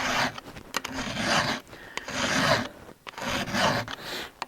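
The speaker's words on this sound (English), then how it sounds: "one of them is sharpen the saw" A file rasps over a chainsaw chain to sharpen it, three rhythmic bursts of gritty strokes with short pauses between, close and clear with no talk.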